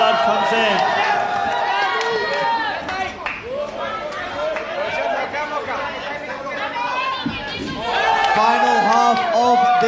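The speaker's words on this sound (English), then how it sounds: "Crowd going wild." A crowd at a WBC Asia Continental welterweight title boxing match roars continuously, with a dense wash of shouting, whooping and cheering voices that swells again near the end.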